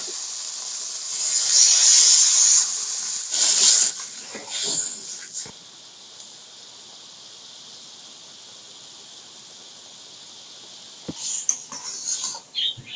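Water poured into a hot pan of garlic for a fish curry, bursting into a loud sizzling hiss that fades to a low simmer, then flares briefly again near the end. Close and alone, with no voices.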